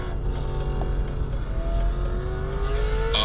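A silver car with a rear transaxle drives past and accelerates, its engine note rising steadily in pitch over a constant road rumble, loud and fairly close.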